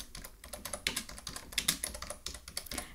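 Fingers type on a computer keyboard while writing Python code, a close, steady patter of quick key clicks with irregular rhythm and no talking.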